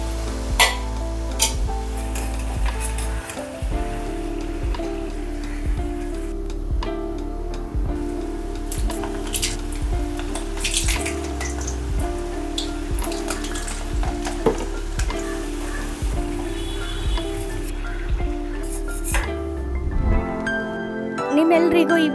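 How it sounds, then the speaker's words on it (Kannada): Kodbale frying in hot oil over a low-to-medium flame, sizzling steadily throughout while being stirred and turned, with occasional clinks and a voice talking now and then. "ಎಣ್ಣೆಗೆ ಹಾಕಬೇಕಾದ್ರೆ ಲೋ ಫ್ಲೇಮಲ್ಲಿ ಇಟ್ಕೋಬೇಕು."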